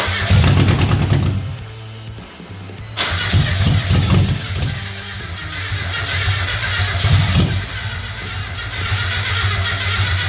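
An engine runs for the first time: it cranks briefly, then catches and settles into a loud, steady, close running drone with slight surges.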